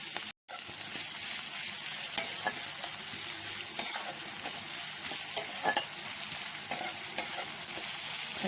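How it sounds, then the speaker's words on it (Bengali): Chopped onions and green chillies fry in oil in a pan, giving a continuous close sizzle with frequent clinks and scrapes from stirring, briefly dropping out near the start and then running steadily with no talking. "কুচনো পেঁয়াজ আর কটা কাঁচা লঙ্কা কুচিয়ে রেখেছিলাম সেগুলো দিয়ে দেবো। দিয়ে এটা ভালো করে ভেজে নেব।"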